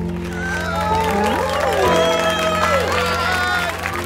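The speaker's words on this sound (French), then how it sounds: "Applaudissons à nouveau l'équipe de Pom Pom Girls menée par Rebecca Baker." Audience applause and cheering for a pom-pom cheerleading team, a dense crowd clapping steadily with shouts, while voices ring out over it throughout.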